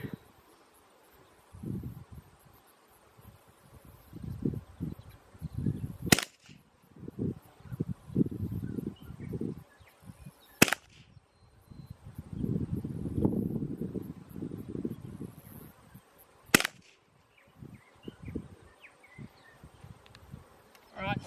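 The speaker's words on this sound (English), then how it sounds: "there's those 5 shots" Suppressed .22LR rifle shots fired through a cheap suppressor outdoors: three sharp, isolated cracks spaced several seconds apart, with buzzing insects and rustling in between.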